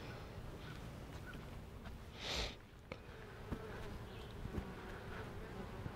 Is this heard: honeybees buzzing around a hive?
yes